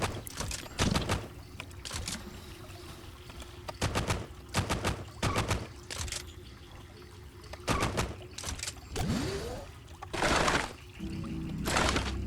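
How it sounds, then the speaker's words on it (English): Gunfire in the roguelike game Caves of Qud sounds as a series of short clustered bursts separated by pauses, over a steady low background hum, with one sliding whoosh near the end. "Alright, time to start shooting."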